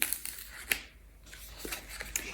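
Recycled paper packaging for tissue handkerchiefs being opened: dry crinkles and tearing scrapes in scattered bursts, close and moderately loud, with no voices.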